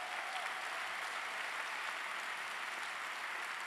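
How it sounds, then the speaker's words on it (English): Steady applause from a large audience at a dental school commencement ceremony, an even, continuous roar of many hands clapping that holds at the same level from start to finish. "Would you please give them a round of applause?"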